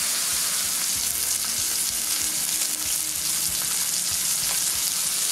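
New York strip steak searing in a hot pan, a loud, continuous sizzle and crackle with occasional soft knocks from handling, no talking.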